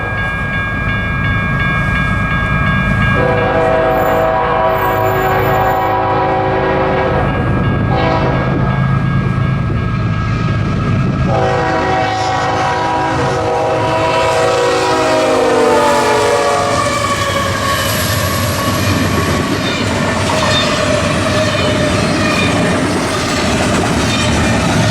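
An EMD SD70MAC locomotive leads freight train IG2LT past, its loud multi-tone horn sounding in long blasts over a constant heavy rumble and clatter of wheels, with no talk.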